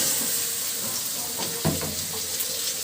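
Washed bottle gourd pieces sizzle in hot oil and masala with a steady broadband hiss, then a brief louder burst and clatter as the pieces settle and are turned in the pan.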